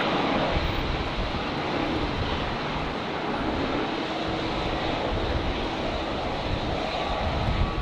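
An airliner takes off from runway 19 right at Brisbane Airport on a windy day, its engines producing a loud, steady, broadband roar that holds without a break from start to finish.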